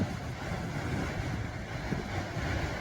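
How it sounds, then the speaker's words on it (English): Ocean waves on the South Shields coast beneath crumbling cliffs, a continuous broad rushing wash mixed with wind buffeting the microphone, steady and moderately loud. "I just love listening to the waves"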